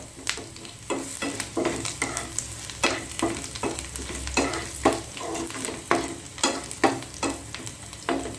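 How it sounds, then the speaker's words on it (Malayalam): Crushed garlic frying in oil in a pan while making a Malayalam-style potato fry, with steady sizzling and repeated stirring scrapes in an uneven rhythm, close and fairly loud, no talking. "വെളുത്തുള്ളി ഒന്ന് വഴണ്ട് വന്നിട്ടുണ്ട്."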